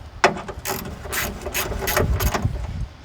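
A ratchet with a 3/8 socket loosening headlamp bolts on a Freightliner truck, with several close, rhythmic clicking strokes at roughly half-second intervals over a low background rumble.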